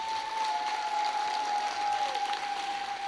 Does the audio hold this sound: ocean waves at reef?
no